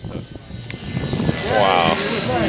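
Remote-control helicopters and planes flying nearby, their whining motors rising and falling in pitch, one sweeping pass swelling louder toward the end, with outdoor crowd noise and a voice speaking over them.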